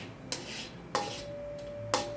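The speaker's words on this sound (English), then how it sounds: "with a couple of tablespoons of oil, you just stir it around" Metal spatula scraping and clinking against a pan while stir-frying in oil, three sharp strokes about a second apart with a faint ringing tone, no voices.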